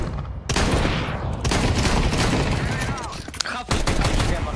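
Rapid bursts of gunfire from Counter-Strike 2, loud and nearly continuous over four seconds, with short pauses between volleys and a brief break near the end before shooting resumes.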